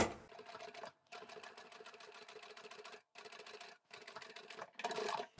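A sewing machine restitches the seam of a plain-fabric cushion cover, running in steady rapid bursts with short pauses between them. It is close and fairly loud, with no talking.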